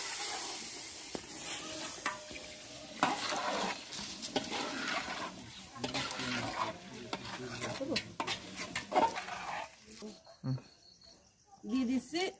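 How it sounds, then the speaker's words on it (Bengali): Biryani rice frying in a pot for chicken biryani, stirred steadily after a little water is added, with constant sizzle and scraping spoon strokes throughout, fading to a quieter, sparser hiss near the end. "আমি দিয়ে দিচ্ছি সামান্য জল।"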